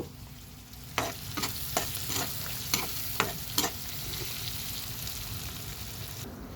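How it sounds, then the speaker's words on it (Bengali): Prawns fry in a pan for a pumpkin-and-prawn curry, a steady close sizzle broken by about seven sharp scraping stirs at irregular intervals, with no talking. "চিংড়ি মাছগুলো হালকা ভাজা হয়ে যাবে।"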